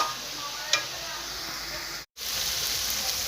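Chicken pieces being stirred as they fry in a pan, giving a steady close hiss and sizzle with one small click and a brief break near the end.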